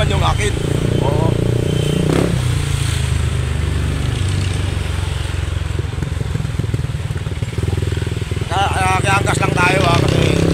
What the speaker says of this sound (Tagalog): So yun, nakiangkas tayo ng motor yun.